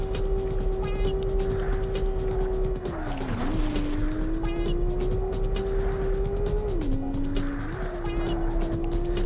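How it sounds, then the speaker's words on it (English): A Porsche race car engine in the PlayStation game Porsche Challenge drones steadily at high revs, dipping briefly twice as gears shift, then climbing again, with faint tire noise underneath. "the engine note is actually quite intriguing in this game"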